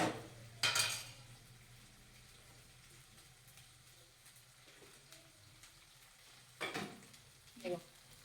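Ginger and garlic frying in a pan for a curry, a quiet low sizzle running underneath, broken by a few louder clatters of a utensil stirring against the pan.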